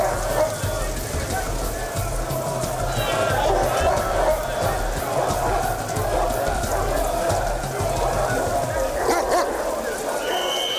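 Police dogs bark and yip amid a noisy crowd of frustrated fans on a London Underground platform, with a steady roar of voices and station din throughout and brief whimpers between the barks.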